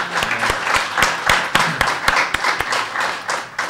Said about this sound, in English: let's have a round of applause for our participants.